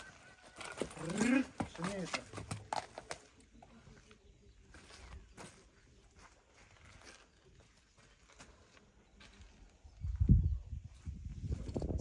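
Hooves of a pair of bay draft horses clip-clop at an uneven walking pace amid farmyard noise, with voices talking nearby and a louder low rumble near the end.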